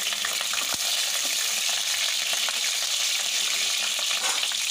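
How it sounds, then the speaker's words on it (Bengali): Nigella seeds and slit green chillies frying in hot oil for a Bengali hilsa dish, a loud, dense, crackling sizzle heard up close, with a sharp tap near the start. "এবার তেলের মধ্যে দিয়ে দিলাম কালো জিরে"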